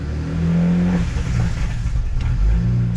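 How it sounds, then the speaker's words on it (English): A BMW N54 engine held at steady revs, its uneven, labouring idle-to-mid rumble broken by sharp pops and backfires, loud and close throughout. "if I slowly just try to hold the revs at a certain like RPM, it'll start backfiring like crazy"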